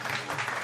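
Cartoon applause for a contestant on a comic game show, a brief, dense patter of clapping that holds steady for under a second at moderate loudness.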